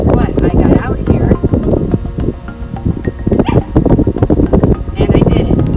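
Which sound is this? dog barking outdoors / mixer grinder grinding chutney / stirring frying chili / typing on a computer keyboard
dog barking outdoors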